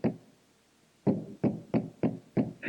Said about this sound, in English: She banged on the door